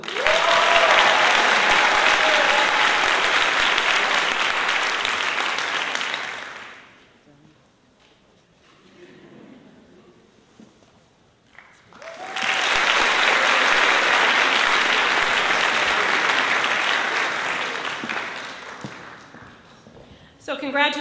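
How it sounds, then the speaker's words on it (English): Loud, sustained audience applause at the CHSU-COM class of 2025 white coat ceremony for student doctors, coming in two long waves separated by a quieter stretch of several seconds, with the second wave fading near the end. "a giant round of applause to all of our student doctors, class of 2025."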